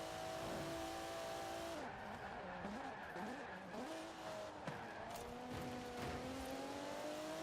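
A Porsche Panamera races in the video game Forza, its engine droning and shifting pitch through gear changes and revs, with tire squeal and skidding mixed in, steady and moderately quiet throughout.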